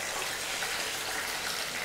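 Steady, dense sizzling and crackling of boiled sweet corn frying in hot oil, continuous and close, with no pauses.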